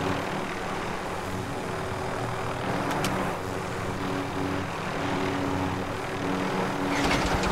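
Video game helicopter droning steadily with a throbbing rotor and engine roar, fairly loud and continuous, with brief sharp clicks and a burst of noise near the end.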